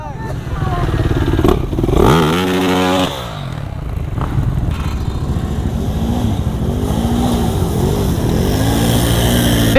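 A four-wheeler ATV engine revs at a muddy off-road park, a loud, close, rising and falling engine roar that runs throughout the clip, with voices mixed in.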